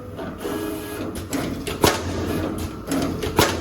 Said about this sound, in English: press the start, machine will be auto running, and it will cut 10 pieces